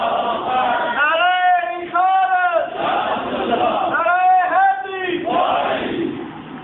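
A crowd at a religious gathering chants a slogan in loud, rhythmic call-and-response bursts, voices swelling together in two repeated pairs of shouts with pauses between.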